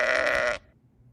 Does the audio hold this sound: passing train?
no